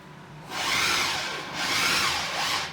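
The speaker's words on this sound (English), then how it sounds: "they have a motor where I can lower the table" An electric motor lowers a drill press table, giving two long rising-and-falling whirring grinds with a short dip between them, close and fairly loud.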